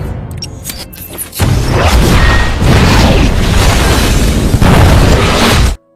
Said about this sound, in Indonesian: pemenang kontes tersebut terbunuh akibat ledakan C4 yang ada di komputernya